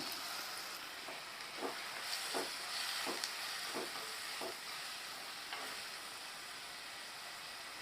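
Two medium tomatoes cut into pieces hit hot frying masala for a surmai (vanjaram) fish curry, raising a steady hiss and sizzle with a run of rhythmic stirring scrapes, fairly quiet and without speech.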